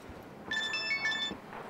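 A phone ringtone from a TV drama scene, heard as a short electronic melody of bright repeated tones lasting about a second, fairly loud and alone with no talk over it.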